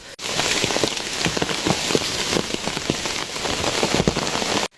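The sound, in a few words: rain on a mountain path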